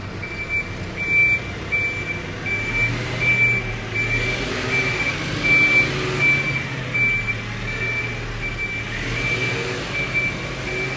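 Truck reversing beeps on a Brussels street, a steady series of regular high electronic tones pulsing repeatedly over a low rumbling engine and traffic drone, moderately loud and constant throughout.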